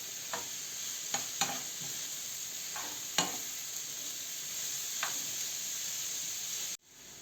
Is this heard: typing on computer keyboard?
no